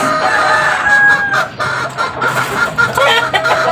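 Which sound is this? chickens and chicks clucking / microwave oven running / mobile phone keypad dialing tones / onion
chickens and chicks clucking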